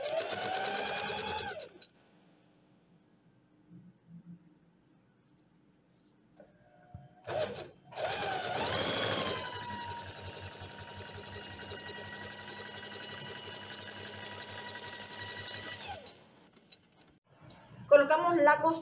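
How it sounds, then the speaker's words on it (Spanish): A sewing machine stitches the neckline and armhole seam of a dress lining in one long, steady, close run of whirring, preceded by a short burst and followed by brief handling noise. "Vamos a realizar esa costura."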